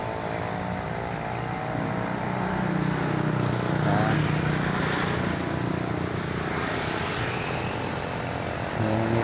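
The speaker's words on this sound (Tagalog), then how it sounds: "daming sasakyan na dumadaan, oh." Steady traffic rolling along a road beneath an overpass, a continuous loud rumble of many passing vehicles with swells as individual cars go by, no talking.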